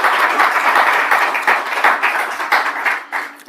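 An audience claps loudly at a Zenith Bank presentation, the near, dense clapping pulsing and thinning slightly toward the end.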